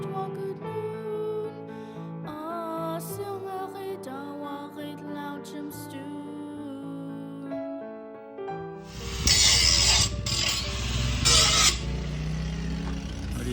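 Grinding on metal to reinforce a building roof in Western Alaska, a loud, harsh abrasive hiss that kicks in partway through after a stretch of tonal background music and continues strongly to the end.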